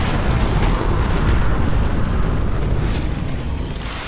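Heavy artillery bombardment in the video game Apex Legends, a continuous loud rumbling barrage of booming explosions rolling together without pause, dense and overwhelming throughout.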